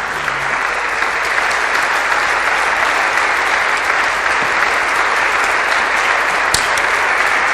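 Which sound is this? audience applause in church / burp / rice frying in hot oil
audience applause in church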